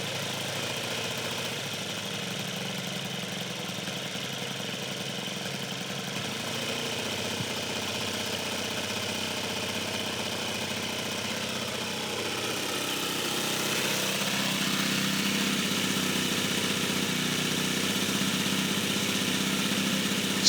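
A model airplane engine in a Top Flite Bonanza V35 runs continuously during carburetor high-speed needle tuning, a steady buzzing drone that rises in pitch and loudness partway through as it moves from low to high throttle, with no talk.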